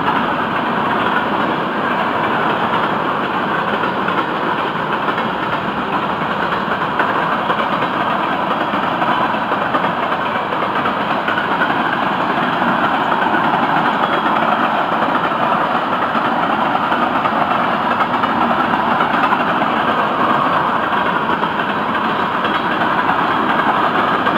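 A freight train locomotive idles with a steady, loud diesel rumble that stays constant throughout, without any voices.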